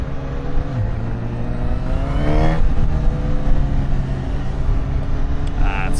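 A Honda CB1000 Hornet 1000cc naked motorcycle revs up through its baffled exhaust, climbing sharply in pitch, then settles into a loud, rough, steady drone close by.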